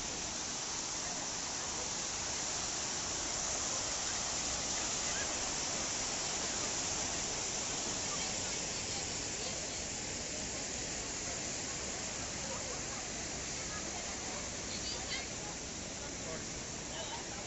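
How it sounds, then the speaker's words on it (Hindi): Water pouring out of the tank at Damodar Kund, Junagadh, makes a constant loud rush and hiss throughout, close and unbroken, with faint background voices mixed in. "आप पानी की आवाज सुन सकते हो क्या?"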